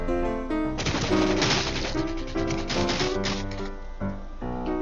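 Rapid automatic gunfire from the video game Rules of Survival rattles almost continuously in a dense, even burst, with game music or tones running underneath.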